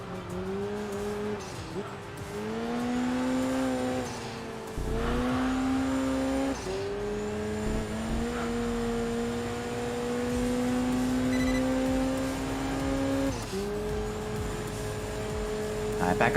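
A small-engine race car strains uphill in Enthusia Professional Racing, its engine holding a steady buzzing whine that rises through each gear and drops at the shifts, with someone talking over it throughout.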